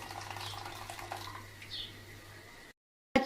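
Boiled water from a kettle poured into a cup until it is half full, a steady soft splashing stream for about two and a half seconds that stops abruptly, followed by silence and a short clatter.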